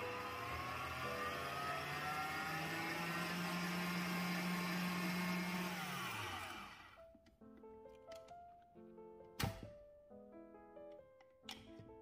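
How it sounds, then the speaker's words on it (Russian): An electric mixer whirs steadily while egg yolks are mixed into whipped egg whites, a loud, even drone lasting about six seconds before cutting off, followed by scattered light clinks. "ко взбитым белкам добавим яичные желтки. Перемешаем до однородного состояния"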